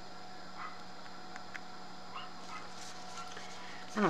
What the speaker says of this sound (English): I don't know what my baby's barking at out there.